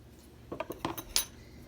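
A spoon clinks and scrapes in a bowl while Louisiana hot crab dip ingredients are mixed, a few short metallic taps and stirring strokes close by over a quiet background.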